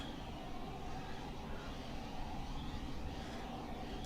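A Eurofighter jet in a flight simulator game gives a steady, dull engine roar that holds at an even level throughout, with no voices over it.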